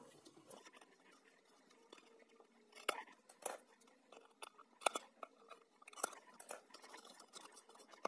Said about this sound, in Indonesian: Lalu kita gunting atasnya.